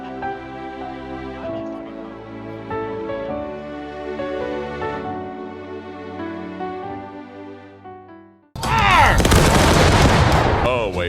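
Massed musket volley from enemy troops in War of Rights, a Civil War battlefield game, erupting loudly and densely near the end after a stretch of fife-and-drum style music.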